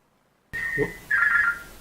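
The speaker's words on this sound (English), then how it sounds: "Hold on, there's the bloody phone." A telephone rings in a live news broadcast studio: two clear electronic ring bursts break a brief silence, close and fairly loud, with no talking over them.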